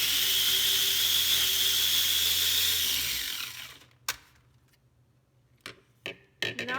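A small kitchen grinder blitzes red onions for curry with a loud, steady whirring drone that winds down and stops, followed by a few quiet clicks and knocks as it is handled nearby.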